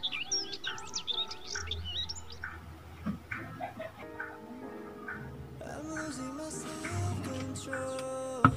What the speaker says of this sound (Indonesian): Wah, ada bunyi burung-burung kan?